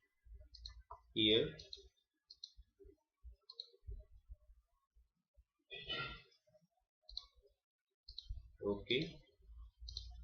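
Computer mouse clicks while wiring a circuit in PSPICE software, sparse quiet clicks scattered through the quiet room, with someone speaking softly between them.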